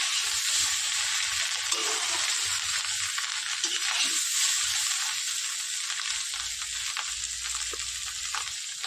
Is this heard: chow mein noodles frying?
yes